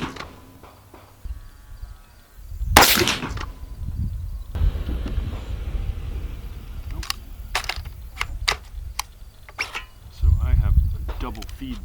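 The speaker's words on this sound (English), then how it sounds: "So I had a double feed and I've got a bad round now" A 6.5 Creedmoor rifle action cycling with a double feed: a sharp metallic clack, then sliding and clicking of the bolt and rounds. Scattered bright ticks and scrapes run under quiet background noise, with a heavier rattle near the end.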